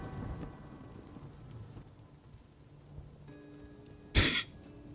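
A video game thunderstorm with a low rain hiss and faint rumbling, then one sharp, loud thunder crack near the end.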